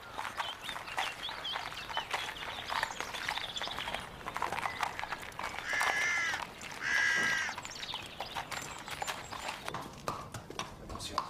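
A horse is led along with clear, steady clip-clopping hooves close by, while a person talks over it and a rooster crows faintly in the background.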